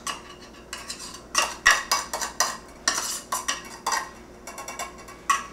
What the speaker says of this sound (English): scoop all of the clams without juice